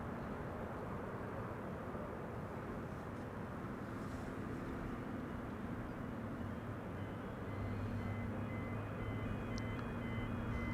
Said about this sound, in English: So this is KLM flight 1354 arriving from Prague in the Czech Republic, a 737-800.